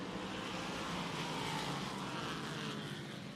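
Stock race cars circle the Bowman Gray track, their engines a steady, dense roar from the pack stretching down the straights, constant and fairly distant with no breaks.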